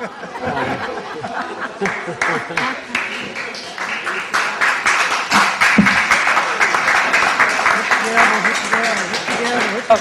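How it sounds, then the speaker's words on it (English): A crowd at a Charleston, South Carolina city council meeting applauds with scattered clapping mixed with laughter and chatter, building and holding steady. "No, please, no applause is allowed,"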